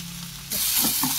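Spiced masala with tomato, turmeric, chilli, cumin and coriander powder, hitting a hot pan with a sudden loud sizzle that holds steady and close, no voices.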